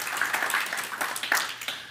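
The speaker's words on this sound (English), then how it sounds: "Give God another hand clap of praise." Church congregation giving a round of applause as a hand clap of praise, a dense, fairly soft patter of many clapping hands heard from across the room.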